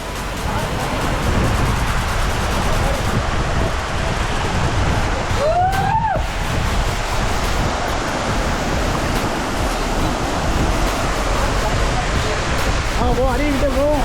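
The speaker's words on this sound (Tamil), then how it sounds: "அந்த பெரிய பேரருவிக்கிட்ட வந்தாச்சு." Thalaiyar waterfall near Kodaikanal roars in a constant, dense rush of falling water that fills the whole scene, with someone speaking and brief whistle-like cries over the steady noise.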